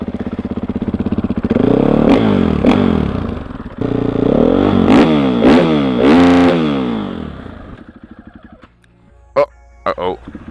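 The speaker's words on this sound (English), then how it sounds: "I need you to hear my 100 euro fake FMF exhaust" Dirt bike fitted with a cheap fake FMF exhaust with a dB killer inside, revving repeatedly in loud rising bursts, then a few short sharp blips near the end.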